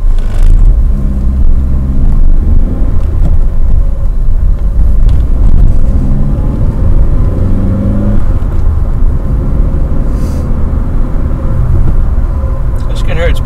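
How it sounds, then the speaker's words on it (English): Car driving on the road, heard from inside the cabin: a steady low engine and road rumble with fairly quiet tyre noise throughout, and a person talking over it. "Quite surprised how quiet this car is compared to my last one."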